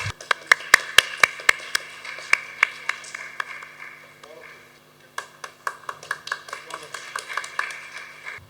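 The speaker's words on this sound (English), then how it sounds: "Give a round of applause, please." Scattered individual claps from a small audience at the KCA Gavel Club annual debate contest, sharp separate hand claps in uneven bursts over a steady low hum, with a short lull midway before the clapping resumes.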